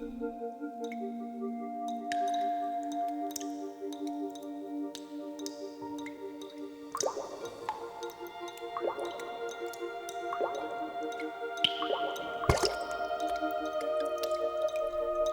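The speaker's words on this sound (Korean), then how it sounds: "물방울은 겨울이 끝나고 있음을 알리는 신호죠." Water drips inside a lava cave on volcanic Jeju Island, the plinks and squishy plops echoing at an uneven pace over a faint resonant drone, close and clear without any voices.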